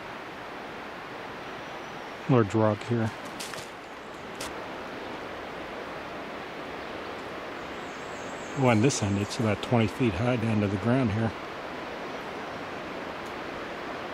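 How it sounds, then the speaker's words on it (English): Rapids of the Gauley River rush steadily below a high rock ledge, a constant broadband roar heard from above, with someone talking over it twice. "The sound of the rapids bouncing off this rock"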